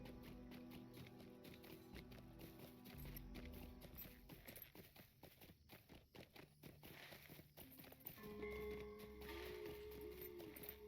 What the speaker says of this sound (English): Let's get off my horse and get onto his horse.